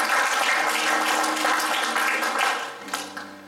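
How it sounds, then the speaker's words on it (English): Congregation clapping hands together in praise during a church service, a dense, steady wash of applause that fills the space and tapers off near the end. "Give the Lord a hand clap of praise."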